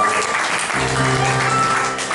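A church congregation applauding to acclaim the Lord after prayer, dense continuous clapping from a crowd filling the room, with some voices mixed in.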